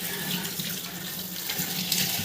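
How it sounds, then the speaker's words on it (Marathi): Tap water runs steadily and splashes as a plate is rinsed in a sink, a continuous close hiss with no talk. "आता मी तुम्हाला लगेच धुवून दाखवते"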